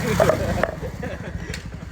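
A KTM Duke 390 motorcycle engine runs at idle with a steady low throb, up close, while someone speaks over it.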